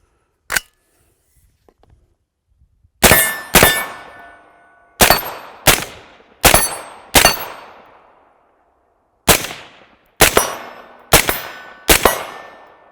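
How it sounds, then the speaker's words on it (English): A rifle firing at Caldwell steel targets outdoors, likely .223/5.56 from a full-auto lower, heard as a dozen sharp shots each followed by a ringing metallic clang, spaced irregularly in bursts of two or three. "What could be more perfect for shooting all of this awesome Caldwell steel that we have set up now?"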